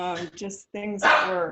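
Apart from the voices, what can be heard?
dog barking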